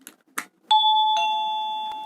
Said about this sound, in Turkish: Yani kablosuz kapı zilleri.